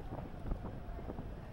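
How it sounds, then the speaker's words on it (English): Strong wind after a storm that knocked out power, a steady low roar and buffeting against the microphone with no distinct gusts, no speech. "It's still very windy today."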